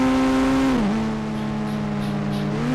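A car driving in the video game GTA, its engine drone holding a steady pitch, briefly dipping as it eases off, then settling back, loud and close.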